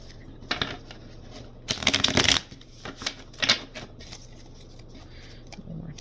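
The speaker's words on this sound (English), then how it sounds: "I did not cut and shuffle the cards here" A deck of tarot cards being riffled and shuffled in several quick bursts, crisp papery flutters close by with brief pauses between them.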